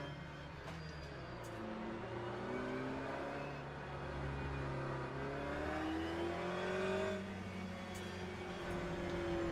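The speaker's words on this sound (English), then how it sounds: "I'm turning on and off the engine just to save fuel." A race car engine in Le Mans Ultimate, cut and restarted to save fuel, with the pitch sliding down and then climbing again as revs fall and rise, a continuous whine and rumble without talk.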